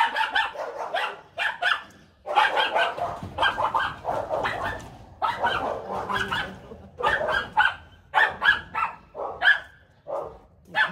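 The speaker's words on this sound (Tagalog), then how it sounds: "Ingay po ng aso." Several dogs bark and yip repeatedly in loud, overlapping bursts, close by, with brief pauses between volleys.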